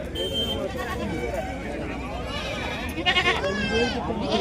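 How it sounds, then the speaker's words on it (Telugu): Goats, including pregnant does, bleating at a livestock market in Chillakallu, Andhra Pradesh, wavering cries rising now and then, while someone talks over them throughout amid crowd noise. "సూడు మేకలు అన్నారు కానీ ఇది సూడు మేక కాదండి"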